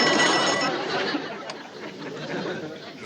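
An old party-line telephone bell gives one long ring, fading into room chatter and light laughter as people talk.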